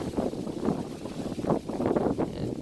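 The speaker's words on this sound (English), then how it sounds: "And got a little windy on this hole." Gusty wind on a disc golf course during a tournament round buffets the microphone in uneven rumbling bursts, rising and falling throughout.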